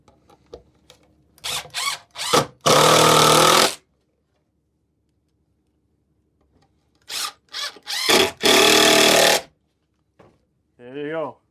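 Power drill driving two screws into the back of a wooden birdhouse, two bursts of whirring with short ramp-ups and a long steady run each, separated by quiet handling noises and a faint voice.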